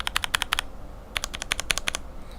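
Two quick bursts of clicky keystrokes on a mechanical keyboard built with lubed Cherry bottom housings, close and crisp, six strokes then a short pause then about eight more, no voices.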